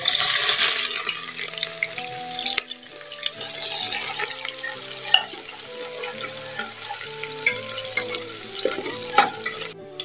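Chopped onions fry in a pressure cooker for a lentil and bottle-gourd dal, giving a steady, soft sizzle with occasional stirring scrapes under continuous melodic background music.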